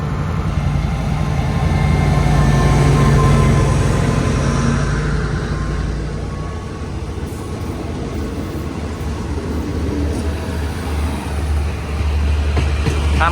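Train hauled by locomotive QSY 5215 rolling past, a loud, close diesel rumble with steady rail and wheel noise that eases slightly midway, then continues.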